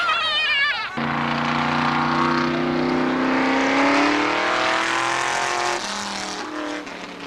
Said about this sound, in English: listen to those big pipes roar.